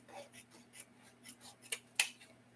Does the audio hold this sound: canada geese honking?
no